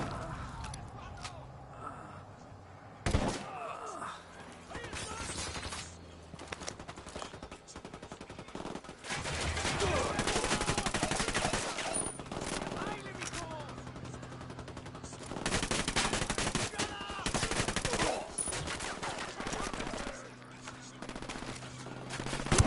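Automatic gunfire and bursts of shots in the tactical shooter Ghost Recon Wildlands, fairly loud and continuous over a game soundscape, with voices talking at times between the volleys.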